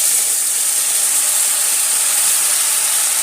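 Ground spice paste sizzles loudly as it hits onions fried until deep red, a steady bright hiss of hot oil that holds unbroken throughout.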